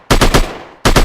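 Loud, close bursts of rapid automatic gunfire from a weapon in The Witch Controller video game, three quick shots in a row, a brief pause, then another burst.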